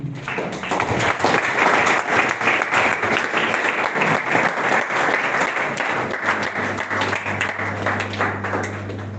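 An audience at a pharmacists' summit applauds a speaker, sustained, dense indoor clapping from many hands that holds steady throughout and eases slightly toward the end.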